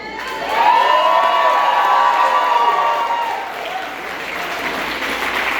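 A campaign rally crowd applauding and cheering for a governor candidate, a dense wash of clapping with whoops and shouts swelling loud, then tapering slightly while staying steady to the end.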